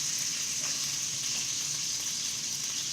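Onions fry in a pan for homemade burgers, giving a steady, even sizzle with a bright hiss that runs unbroken and fairly quiet for the whole stretch.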